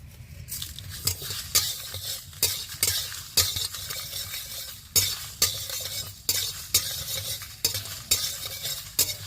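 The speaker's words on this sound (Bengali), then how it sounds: "এখন আমি দিয়ে দিচ্ছি জিরে জিরে আর মৌরিটা আমি একসঙ্গে দিয়ে দিচ্ছি কারণ একই সঙ্গে ভাজা হয়ে যাবে" Whole cumin, fennel, coriander seeds and dried chillies dry-frying in a pan for homemade Bengali mango pickle oil, stirred with a utensil in steady repeated scraping strokes over a soft sizzle, close and fairly loud, with no talking.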